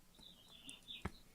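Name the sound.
bird chirping in the room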